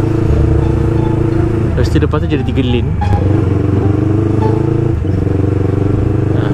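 Motorcycle engines drone loudly and continuously in jammed traffic on a wide three-lane road, under someone talking close by.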